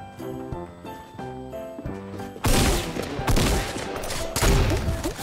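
Rocket launcher explosions in the video game Fortnite arrive as a sudden loud, broadband blast that rumbles on for several seconds, following a stretch of repeated rhythmic mechanical clicking and tonal game sounds.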